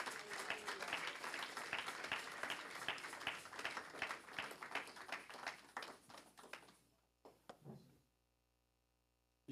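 Church congregation clapping together in a steady, fast rhythm for several seconds, moderately distant, then fading to a few scattered claps and silence.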